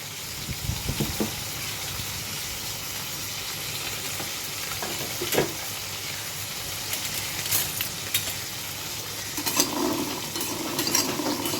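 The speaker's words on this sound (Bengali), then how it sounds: "শুকনো কড়াইয়ের মধ্যে এটা টেলে নেবো" Jackfruit seeds dry roasting in a wok, giving a continuous low rattle and sizzle with intermittent stirring scrapes and clinks of the seeds against the metal.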